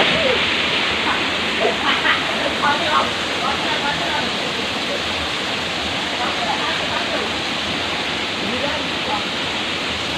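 A waterfall at Pucuk Rintis in Indonesia roars as a dense, steady rush of falling water, filling the whole clip, while people chatter and call out faintly over it.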